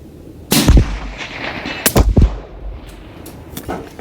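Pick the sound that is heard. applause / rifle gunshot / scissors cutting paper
rifle gunshot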